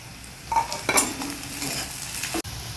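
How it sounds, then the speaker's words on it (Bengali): Onions and slit green chilies frying in hot oil in a pan, a steady close sizzle with a few stirring scrapes and utensil clinks, no voices. "পেঁয়াজটাকে ভালো করে তেলের মধ্যে ভেজে নেব"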